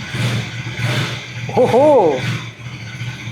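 A KTM 250 Adventure 2026 motorcycle engine idling and rumbling close by, a steady mid-pitched exhaust note under a man's brief exclamation and voice.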